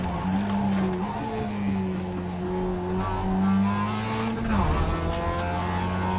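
A race car in a racing video game runs off the track, its engine droning loudly and steadily while the tires squeal and skid, the engine pitch dipping and rising again near the end.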